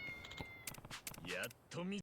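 A cat meows in the video game Yakuza Like a Dragon, two short, clear mews near the end, while someone talks over them.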